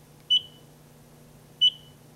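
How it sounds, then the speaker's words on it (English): FireGuard door control box horn sounding its one-beat low-battery fault pattern: two short, sharp high beeps about 1.3 seconds apart over a faint steady hum, with nothing else heard. "If it is a one-beat pattern which sounds like this,"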